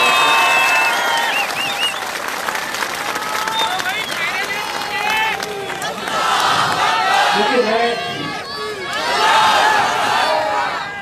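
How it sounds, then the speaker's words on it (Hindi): A crowd applauds and cheers at a political speech in Aurangabad, Maharashtra, with dense clapping, shouts and whistles swelling in waves and mixed with voices. "तो एक जोरदार ताली अपने खुद के लिए बना दीजिए।"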